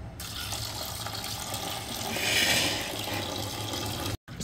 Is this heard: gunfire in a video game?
no